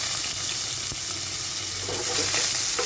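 Onions fry in hot oil with cinnamon and cardamom for a chicken dish, producing a continuous close sizzle with a low steady hum beneath and a few soft clinks and stirring scrapes.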